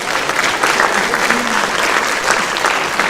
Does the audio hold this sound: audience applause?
yes